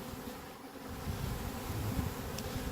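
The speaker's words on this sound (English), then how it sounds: "There's a whole lot of bees over here in this corner" A steady, close swarm of honey bees hums continuously, a dense low drone with a faint rise in loudness partway through.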